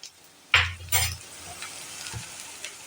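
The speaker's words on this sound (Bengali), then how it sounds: "এবার এটাকে ভালো করে এপাশ ওপাশ করে ভাজা ভাজা করে নিলাম" Crushed garlic and grated ginger tossed and fried in a pan for a fish-head cabbage curry, with a few close scraping, clinking stirs and a soft sizzle between quieter moments.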